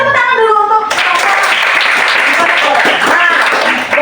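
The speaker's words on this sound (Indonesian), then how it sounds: "Oke, tepuk tangan dulu untuk" Classroom applause after a student presentation: a voice is heard briefly at the start, then a loud, sustained burst of group clapping fills the rest.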